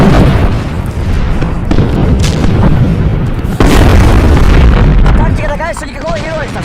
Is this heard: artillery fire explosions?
yes